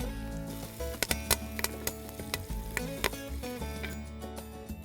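A potjie stew with garlic cooks in a pot over coals while being stirred, with a steady low sizzle and a series of sharp clacks and scrapes from the spoon against the pot.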